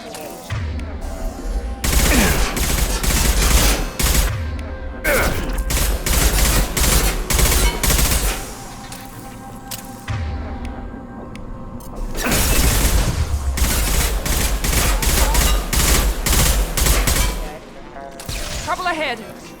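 Dense gunfire from the video game Mass Effect 2 Legendary Edition: sustained rapid bursts and heavy shots fill most of the span, with a brief lull near the middle before another loud barrage, voices faintly mixed in.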